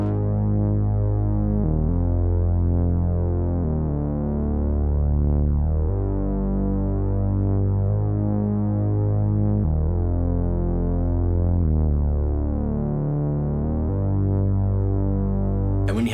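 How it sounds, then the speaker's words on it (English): A classic 70s-style synth bass line from Logic's Alchemy plays a simple, repeating low pattern of smooth, sustained notes, steady and loud throughout with no other sounds or talk. "I found that in Alchemy and I came up with this very simple bass line that went perfectly with the chord progression"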